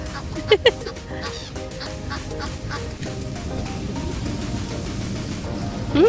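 Near a work booth on a misty, overcast day, a bird drawn in by offered food gives two quick honking calls near the start and another at the end, over steady outdoor background noise.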